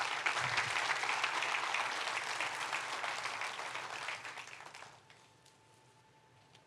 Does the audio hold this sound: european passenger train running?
no